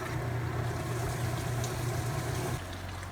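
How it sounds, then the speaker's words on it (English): A Kenmore Whirlpool washing machine starting its rinse cycle gives a faint, steady low hum with sloshing, and the tone drops slightly near the end. "now it's just started the rinse cycle"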